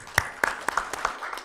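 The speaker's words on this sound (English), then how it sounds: "Big round of applause." A few scattered claps from a conference audience at the inaugural session of a solar energy event in Hyderabad, sounding as sparse, fairly close hand claps over a short stretch rather than full, sustained applause.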